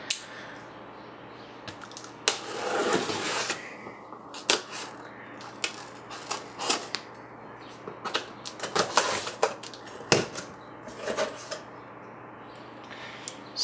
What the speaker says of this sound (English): let's open the box